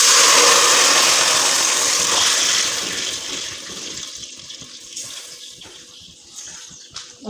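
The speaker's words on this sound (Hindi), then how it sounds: "अब मैं जो है इसके अंदर डालूँगी जो शीरा मैंने बनाया हुआ है वो मैं इसके अंदर डाल दूँगी" Jaggery syrup poured into rice cooking in ghee in a pot for Punjabi-style gur rice, a loud rushing liquid pour that fades over several seconds into quieter bubbling and faint clinks.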